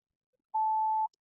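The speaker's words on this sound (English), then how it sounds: "until you hear that beep, and that is going to be setting a station" A single clean electronic beep from a 2026 Subaru Crosstrek Touring car radio confirming a saved preset station, one steady tone about half a second long in an otherwise silent cabin.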